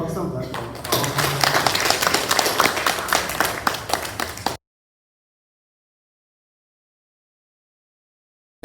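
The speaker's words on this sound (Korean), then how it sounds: "우리 경민이 박수 한번 할까요?" A church congregation claps during a Sunday service, dense and lively hand clapping for a few seconds, followed by abrupt silence.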